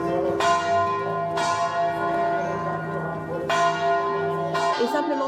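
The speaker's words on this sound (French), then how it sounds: "se promener dans la vieille ville en entendant le son des cloches" Church bells ring out over the old town of Ciutadella, Menorca, with several strong strikes at intervals whose rich overtones hang and overlap in a continuous, reverberant peal.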